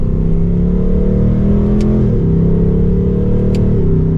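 A 2024 Ford Mustang GT engine revs under steady load after a paddle downshift, rising in pitch then dropping back briefly, with a continuous close exhaust rumble throughout.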